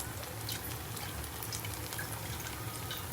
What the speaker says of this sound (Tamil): கொஞ்சோண்டு எக்ஸ்ட்ரா தண்ணி ஊற்றுறேன்